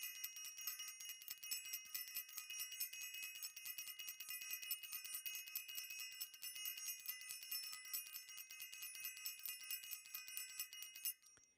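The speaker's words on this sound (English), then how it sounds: "Gonna ring the bell for self-invested, and I hope you all could hear the bell." A bright metallic bell rings continuously with rapid repeated strikes, shimmering and sustained for several seconds before cutting off.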